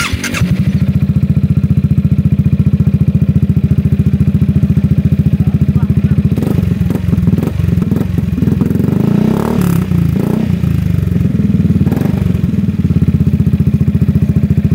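Modified Yamaha XMAX scooter with aftermarket exhaust, idling loud and close with a steady deep burble, punctuated by several sharp throttle blips and revs.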